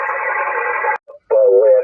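Ham radio SSB voice transmission on 6 or 2 meters, a short burst of band-limited, buzzy, radio-filtered voice with a brief gap, close and fairly loud.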